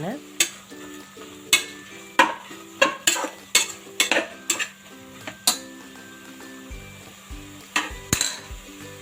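Washed chicken going into a pot for cooker biryani and being stirred, a regular series of sharp spoon clinks and scrapes against the metal pot, about a dozen strokes over a soft background sizzle.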